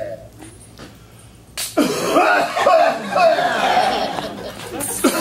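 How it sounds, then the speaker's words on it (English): A few harsh, raspy coughs close to the mic, followed by a stretch of rough, breathy hacking that fills the rest of the clip. "That is quite a cough you've got there."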